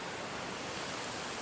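Sea waves wash along the shore at Surigao as a continuous, even rush of surf with a windy, roaring hiss and no distinct breaks, fairly soft and steady.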